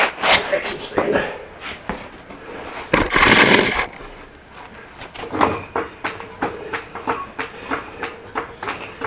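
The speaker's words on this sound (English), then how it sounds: "we've got to move this" A heavy metal axle stand scrapes and clanks as it is dragged across a garage floor during transmission work on a Continental Mark III, with bursts of grinding and sharp knocks. People talk over the noise.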